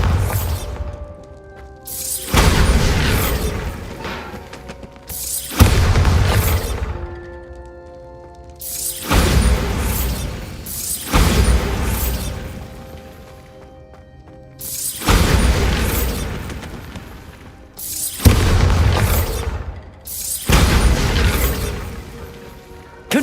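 Bombarda spell explosions in the Hogwarts Legacy video game: a series of loud booming blasts with shattering crashes, roughly seven bursts in about twenty seconds, each rising sharply and then rumbling away.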